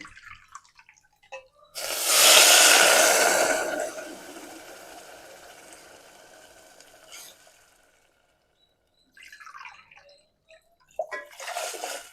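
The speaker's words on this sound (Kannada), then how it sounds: "ಈಗ 4 ಕಪ್ ನೀರು ಹಾಕೋಣ." Water pours into a pressure cooker for sweet pongal: a loud gushing splash that swells and then gradually tapers off, followed by a pause and a few short splashes and clinks near the end.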